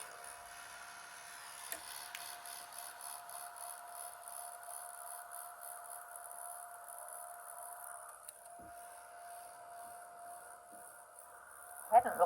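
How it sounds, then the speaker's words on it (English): A heat gun blows steadily on embossing powder on a Christmas gift card holder card, a close, constant whirring hum with a high whine, running alone before a brief clatter at the end. "get my heat gun. Heat it up a little bit first"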